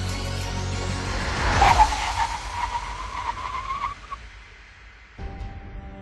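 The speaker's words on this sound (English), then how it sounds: "the BMW 5 Series decelerates absolutely steadily and reaches a full stop at between 37 and 38 meters" A BMW 5 Series making an emergency stop from 100 km/h on a test track: a loud rushing tire squeal that rises and then fades as the car slows, followed by a lower, steady rumble.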